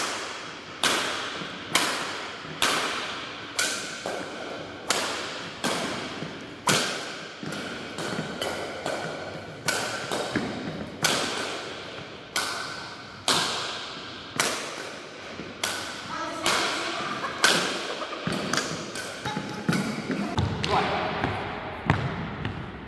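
Sharp, crisp whacks of a Phantom X Shadow badminton racket striking a shuttlecock repeat at an irregular rally pace, each hit ringing out loudly nearby, with faint court sounds and occasional talk between strokes.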